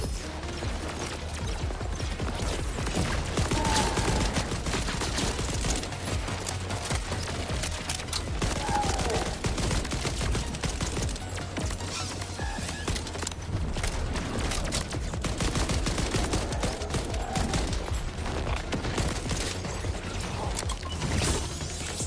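Dense, sustained gunfire in Borderlands 4, with rapid overlapping shots, mechanical clatter and crashing impacts running loud and unbroken for more than twenty seconds.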